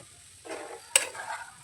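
Salted raw fish ball mixture being stirred and mashed in a bowl, two short soft scraping bursts close up, with one sharp tap of the utensil against the bowl between them.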